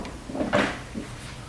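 A resort door to the outside at the Grand Isle Resort in Exuma, Bahamas, swings open or shut with a single soft, brief thump and a light rattle, heard close by.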